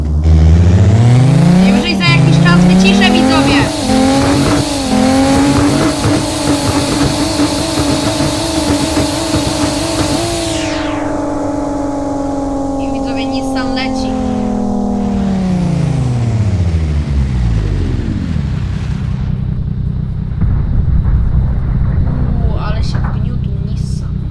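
A loud car engine in the video game BeamNG.drive revs hard, its pitch climbing and holding high, then drops back to a rumbling idle before a few more blips of throttle.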